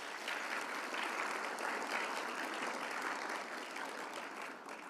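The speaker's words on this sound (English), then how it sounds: "Let's give them a round of applause." A banquet crowd at a university leadership and service awards dinner gives the catering staff a sustained, full round of applause that stays steady and fairly loud throughout.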